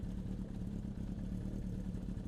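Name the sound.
1980 Honda CB750 cafe racer motorcycle engine exhaust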